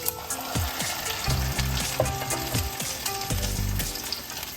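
Three cloves of garlic sautéing in oil in a pan give a steady, close crackling sizzle, broken by a few scraping strokes of a utensil, with no voices.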